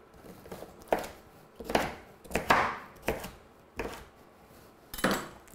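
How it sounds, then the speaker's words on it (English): A knife chopping sweet potatoes into small pieces on a board in a home kitchen: six or seven separate, fairly crisp thuds at an uneven pace, close by and with no talking. "just to cook a bit quicker, we'll cut them reasonably small"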